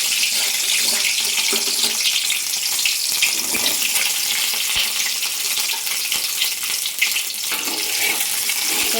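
Four eggs sizzle loudly in hot oil in a pan, a steady bright frying hiss that runs throughout with a few small pops.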